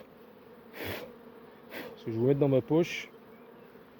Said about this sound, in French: Allez les abeilles.